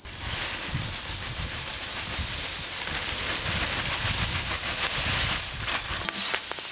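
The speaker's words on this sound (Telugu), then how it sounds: "ఇప్పుడు మనం బొరుగులు వేసుకుని బాగా కలుపుకుందాం" Puffed rice is tossed and mixed with spice masala, producing a steady, dense rustling hiss of dry grains stirred for several seconds. It is fairly close and continuous, with no talk.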